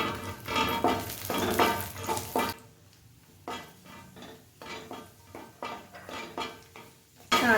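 Raisins frying in a pan for rava ladoo, a steady close sizzle with spoon stirring and scraping against the pan in repeated bursts, pausing briefly midway before resuming.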